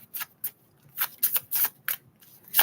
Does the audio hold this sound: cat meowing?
no